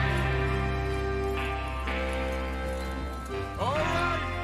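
Horses ridden in Red Dead Redemption 2 clip-clop along while strong sustained game music plays over them, with the hoofbeats partly masked.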